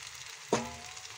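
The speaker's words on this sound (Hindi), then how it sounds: "अब इसमें पानी ऐड करेंगे।" Water poured into a spiced jackfruit curry in a hot kadhai sets off one sudden loud sizzle that bursts up and then slowly fades over a quiet kitchen background.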